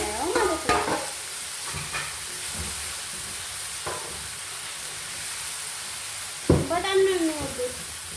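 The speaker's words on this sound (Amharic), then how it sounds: "አብሬ አቅላላለሁ ማለት ነው።" Coriander and spices fry in a pan for a biryani, giving a steady hiss and sizzle with occasional stirring scrapes and clanks, and a voice speaks briefly near the end over the cooking.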